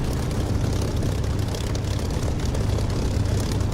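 Propeller aircraft in the flight simulator game DCS throttling up for takeoff, a loud, continuous low engine drone with buzzing propeller texture filling the whole stretch.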